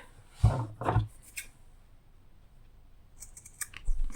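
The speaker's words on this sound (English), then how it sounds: "I'm going to quickly snip" Scissors snip loose thread ends on a handmade wristlet with two quick, close cuts, followed by quieter handling and a few light clicks.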